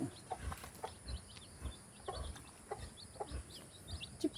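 Native chickens and newly hatched chicks on a farm, with soft clucks and repeated thin chick peeps at moderate distance over quiet background noise.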